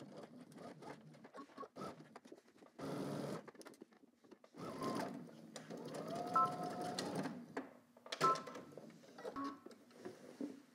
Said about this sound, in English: now we're gonna stitch all the way down using 5/8 of an inch seam allowance